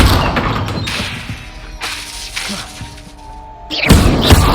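Fiery spell bursts from Incendio casts in Hogwarts Legacy, a few sharp whooshing blasts and thuds with a loud burst near the end, over game ambience and occasional talk.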